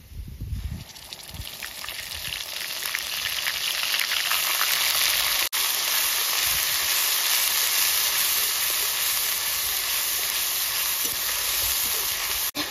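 Ginger, green chili and onion paste drops into hot oil in a pan, erupting in a loud, dense sizzle that holds steadily for the whole stretch, with a sharp click partway through.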